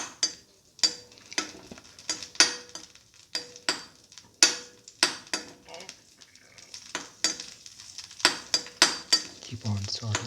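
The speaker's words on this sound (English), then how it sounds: "Let it fry." Raisins fry in about 10 ml of hot oil, sizzling softly beneath repeated sharp clinks and scrapes of a spoon stirring against the pan, the strokes coming in an uneven rhythm.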